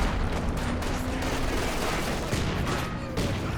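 Rifle grenades and mortar fire in the video game Company of Heroes 2 make a dense, loud barrage of overlapping explosions and gunfire that continues without pause.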